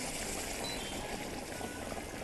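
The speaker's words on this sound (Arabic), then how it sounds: "كل كوبايه رز مصري عليها كوبايه ميه بتغلي او مرق بيغلي" Boiling water is poured onto Egyptian rice with vermicelli in a hot pot, making a continuous loud rushing hiss and sizzle that holds steady throughout.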